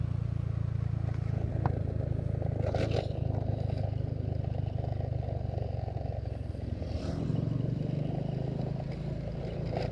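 An old Honda Supra X125 motorcycle is ridden at night along a road, its engine droning steadily and close with a shift in pitch partway through, plus clattering and rattling over rough pavement.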